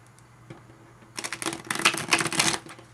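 After a quiet start, a quick flurry of crisp riffling tarot cards being shuffled rises, close and fairly loud, then stops abruptly.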